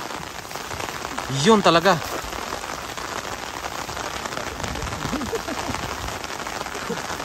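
Steady rain pattering outdoors, a constant hiss that runs through the whole stretch, with a voice speaking briefly near the start.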